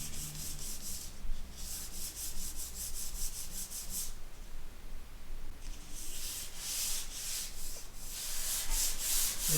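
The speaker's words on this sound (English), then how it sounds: "So I'm just kind of getting some scratches out." Scratches being sanded out of a diesel oil pan, a loud, continuous, close abrasive hiss of back-and-forth sanding strokes that pauses briefly once before starting again.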